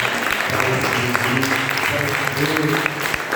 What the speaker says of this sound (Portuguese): Dê uma salva de palmas bem linda agora.